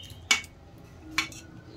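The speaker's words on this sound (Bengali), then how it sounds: "দিয়ে আর একটু নেড়ে চেড়ে ঝোলের সাথে মিশিয়ে দিচ্ছি।" A utensil clinks twice against a pan while fried eggs are stirred into curry gravy, two short bright taps about a second apart over a quiet background.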